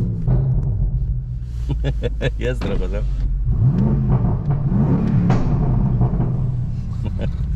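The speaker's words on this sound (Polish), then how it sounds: "No to jest seryjny wydech." A limited-edition BMW engine idles and revs up gently a few times through the stock exhaust, moderately loud and close, while people talk over it.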